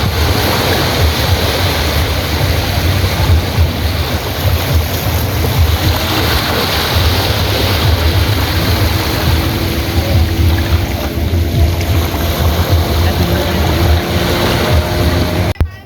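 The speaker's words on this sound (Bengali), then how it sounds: "আপনাদেরকে দেখাবো সমুদ্রের ঢেউয়ের সেই শব্দটা" A constant roaring wash of sea surf at Patenga beach, Chattogram, mixed with wind buffeting the microphone, loud and unbroken throughout.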